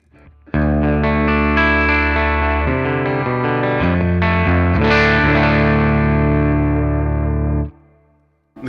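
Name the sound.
electric guitar through BOSS Nextone amp in EL34 power tube mode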